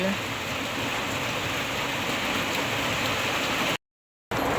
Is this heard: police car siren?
no